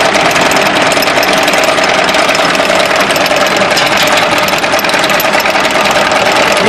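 A 35-station double rotary tablet press runs loud and close, with its upper and lower punches moving in a continuous rapid mechanical clatter and a steady hum at an even level throughout.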